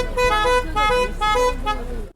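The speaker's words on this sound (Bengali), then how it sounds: "এইটার জন্যই হর্নটা দিয়েছিল" A horn sounds during a Sundarban river tour, giving a few loud, close, harmonic toots in quick succession that nearly fill the whole moment.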